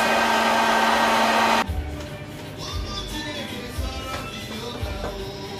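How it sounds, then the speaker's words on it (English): An electric mixer at medium-to-high speed whirs loudly and steadily through salted caramel cake batter, then cuts off abruptly, leaving quieter background sounds with a few soft bumps. "your mixing speed is at a speed between medium and high, depending on the power of your mixer"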